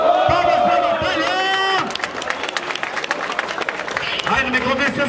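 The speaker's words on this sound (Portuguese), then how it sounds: "Palmas pra batalha." Crowd clapping and cheering at a Brazilian street rap battle, bursts of applause mixed with shouting voices and talk, fairly close and lively.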